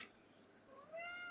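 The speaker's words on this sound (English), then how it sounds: "my cat is meowing in approval" A pet cat meows softly in a quiet room, with a short call followed by a longer, rising tonal meow that stands clearly above the faint background.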